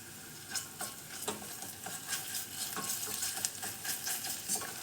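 Tomato paste sizzles in a pan with caramelized onion and garlic while a spoon stirs and scrapes, steady frying hiss under repeated close utensil strokes.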